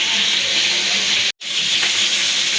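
Pangas fish pieces frying in hot oil, a loud, steady hissing sizzle that cuts out for a split second midway and then carries on evenly.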